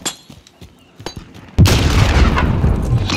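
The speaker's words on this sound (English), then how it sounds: "Throw a grenade." A grenade blast in Call of Duty Warzone Rebirth erupts suddenly after a few faint clicks, a loud, heavy boom that rolls on with rumbling debris until the end.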